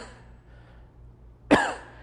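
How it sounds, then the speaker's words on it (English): A single sharp cough from a person bracing their lower back, heard close and alone after a quiet pause. "cough."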